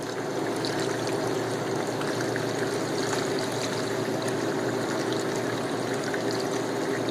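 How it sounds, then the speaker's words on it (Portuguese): Water is poured by hand into an Everest ice maker, producing a continuous, close gushing and trickling stream with a steady level from start to finish and no voices. "Estou colocando água, viu, gente? Manualmente aqui, porque a mangueira que está aqui é curta"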